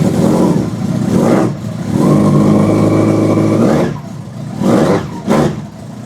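A 23-year-old motorcycle engine starts on the button and revs in several loud bursts that rise and fall, with short pauses between them and no voices over it.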